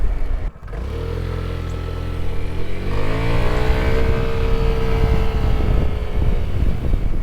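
A Honda Trail 125 motorcycle pulls away and accelerates, its small engine rising in pitch through the gears, loud and close with wind buffeting the microphone.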